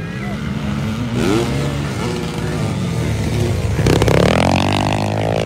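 Motocross bikes, a 450cc and a 150cc, race at a ladies' event in President Roxas, North Cotabato, with engine drone and rising revs throughout, sweeping pitch changes near the end, and a commentator speaking over the noise.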